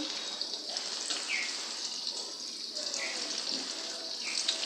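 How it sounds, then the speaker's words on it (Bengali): Spiny gourd and pointed gourd frying in a pan for a home lunch give a steady, close sizzling hiss with a few brief crackles, constant throughout. "আর কাঁকরোল পটল ভাজতেছি।"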